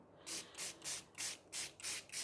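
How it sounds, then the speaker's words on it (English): Seven quick hissing spritzes from a spray bottle of dark coffee spray in a steady rhythm, close and fairly quiet. "It's quite a dark coffee spray, that one."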